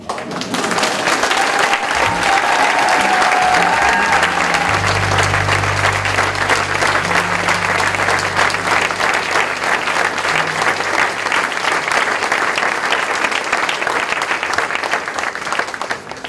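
Audience at a school anniversary concert breaks into sustained, dense applause lasting the whole stretch, loud and even, with faint voices murmuring underneath.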